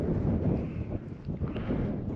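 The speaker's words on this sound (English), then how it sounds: "All you can hear really is the wind." Wind blows across the microphone at the high-altitude summit of Mount Teide, the volcano on Tenerife, a low, continuous rumble that gusts and fades with no voices.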